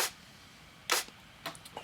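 Three sharp, bright clap hits ring out alone at uneven intervals, each a crisp noisy burst with a short tail, the last ones quieter.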